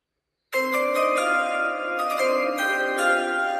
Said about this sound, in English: let's do the chimes